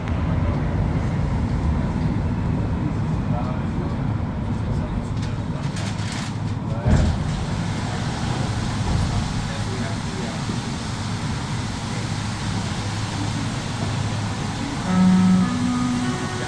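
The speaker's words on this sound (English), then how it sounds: "Sounds like a cleaning vehicle or something. Cleaning crew or something on the platform. One of those vacuums." Steady droning rumble of a cleaning vacuum vehicle on a Montreal metro platform, continuous and fairly loud throughout, with faint station clatter and a short tonal beep near the end.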